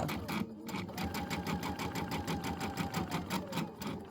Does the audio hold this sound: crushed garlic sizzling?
no